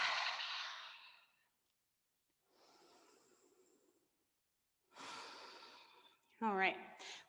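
A person breathing during a yoga flow class: a long airy exhale, a quieter breath, then another audible breath ending in a short voiced sigh, all close and soft with pauses between.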